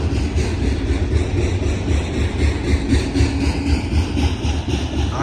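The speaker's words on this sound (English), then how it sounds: "I think this train is going to Chicago, the auto rack" Union Pacific auto rack freight train rolling past in Reno, Nevada, a loud, steady low rumble of wheels and engine noise with no voices.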